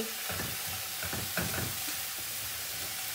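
Barley being stirred and fried in a pan, with a soft steady sizzle and several scraping strokes of the spoon early on, quiet and close with no talking.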